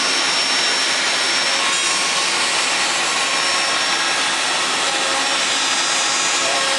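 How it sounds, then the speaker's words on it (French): A Mafell router cuts into wood inside a jig, giving a loud, steady broadband whine with no breaks and no talking. "On enclenche la défonceuse dans le gabarit, c'est parti, vous allez voir."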